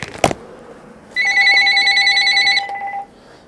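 A telephone rings with one steady electronic ring lasting about two seconds, close and clear after a brief click, with no talking.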